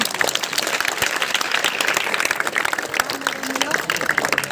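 Crowd of students at a Gandhi Jayanti school quiz competition clapping, a busy mix of hand claps that rises and falls, with some voices mixed in.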